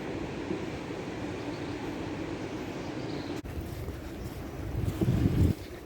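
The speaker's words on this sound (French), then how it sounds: "il y a un peu de vent, j'espère que vous m'entendez" Wind on a morning walk outdoors in the Dominican Republic, a steady broadband rumble buffeting the microphone. It swells into a louder gust near the end.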